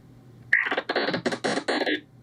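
A short run of electronic tone bursts switching on and off in an uneven pattern, like a coded beeping signal, heard alone.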